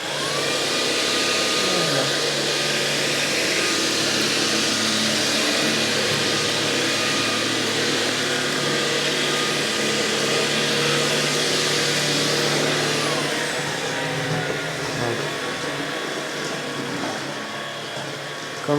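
A Tineco Pure One A50S Plus cordless vacuum cleaner runs with a loud, steady, close whine that keeps going, its motor pitch shifting as suction power ramps up.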